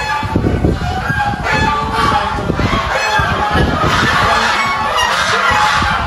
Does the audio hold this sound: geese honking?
yes